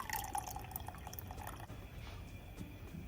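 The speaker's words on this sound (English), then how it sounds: "We're gonna add a half cup of water because we want it to be able to boil up" Water splashes and trickles into a pot of Jamaican jerk chicken, a soft continuous pour with light dripping, quiet and close, with no speech.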